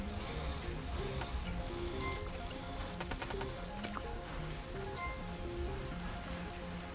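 Rain falling in the video game Kingdom Eighties, a steady soft patter of drops with faint scattered clicks, low in level and continuous throughout.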